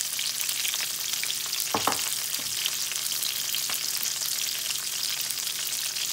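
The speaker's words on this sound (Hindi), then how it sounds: "यहाँ मैंने पैन में तेल लिया है, ये सारी सब्जियाँ उसमें डाल देंगे और उन सब सब्जियों को फ्राई होने देंगे।" Mixed vegetables frying in oil in a pan for an Italian pasta dish make a continuous, even sizzle throughout, broken by a few short utensil knocks and stirring scrapes.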